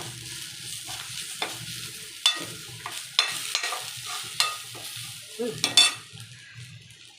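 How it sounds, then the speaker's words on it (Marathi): Onion, mustard seeds, cumin, curry leaves and spices fry in hot oil for a tomato chutney, a soft steady sizzle broken by several sharp spoon-against-pan clinks as it is stirred. "कांदा टाकला तर बघा मसाले टाकले आपण"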